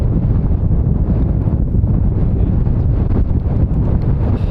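Strong wind sweeps across an outdoor golf course, buffeting the microphone in a loud, steady rumbling roar that never lets up, with no voices or other sounds cutting through.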